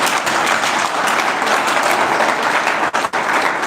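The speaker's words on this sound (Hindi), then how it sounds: "तो क्यों ना हम प्रभु यीशु को जोर से तालियां बजाकर धन्यवाद करें।" A church congregation claps loudly in praise, a sustained wash of close, vigorous clapping that briefly dips near the end.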